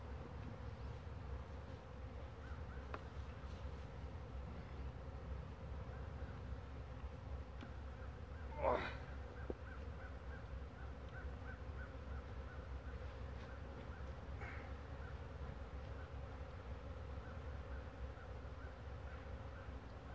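Angry honeybees buzz steadily around a hive during a honey harvest, a continuous low drone with one louder bee passing close midway.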